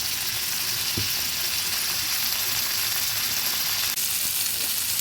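Paneer cubes frying in oil with turmeric over a lowered flame, a constant close sizzle and hiss, a couple of faint clinks of a utensil.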